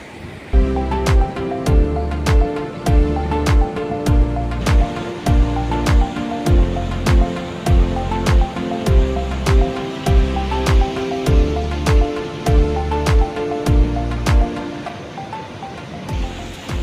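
Water in a river flowing: a loud, continuous rushing wash with regular pulsing swells and a dense steady roar, no voices.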